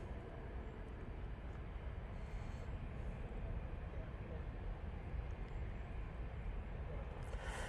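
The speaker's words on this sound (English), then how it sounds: "Etihad, just about touchdown." An Etihad Boeing 787-10 Dreamliner touching down at Manchester Airport, a steady broad low roar of engines and rushing air that holds level and continuous at a distance.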